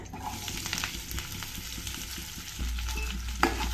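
Onions sautéing in a pan with green chillies, dry red chillies and curry leaves: a soft, steady sizzle under repeated scraping strokes of a stirring spoon, then a low, even hum takes over near the end and a single sharper clink follows.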